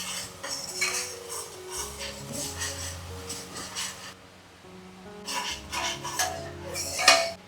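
Chopped garlic and onions cooking in a pot for a village-style chicken curry, with metal spoon scrapes and clinks against the pot over a soft background sizzle, pausing briefly midway and then resuming, close by.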